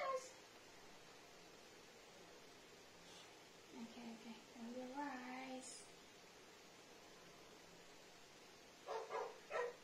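A dog barks a few times at a distance, soft yips scattered over a quiet background, with a last short burst near the end.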